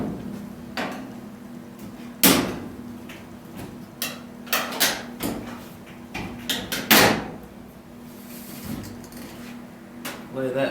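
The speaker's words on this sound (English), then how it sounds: "Okay, now we're going to pop the top off." Top panel of a Whirlpool dryer being popped off, with a series of loud metallic clunks and sharp snaps at irregular intervals over a low steady hum, a voice speaking briefly.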